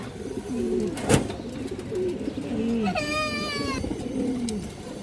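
A pair of large Bagha pigeons coo repeatedly in low, rolling phrases close by, joined by a sharp click and a brief high warbling whistle partway through, over a soft background hum.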